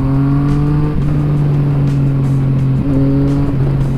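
Yamaha MT-09 three-cylinder engine fitted with an Akrapovič exhaust, revving steadily at close range with a strong harmonic drone, a brief dip near the one-second mark and another just before three seconds, with no talking.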